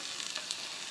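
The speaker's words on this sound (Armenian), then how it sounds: "Ավելացնում եմ միսը," Meat dropped into a pan of onions frying in plenty of oil for beef stroganoff gives a steady, close, loud sizzle and crackle, with no voices.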